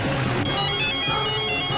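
A mobile phone ringtone plays as a steady electronic melody of sustained tones. It grows slightly fuller partway through and runs continuously without any talk over it.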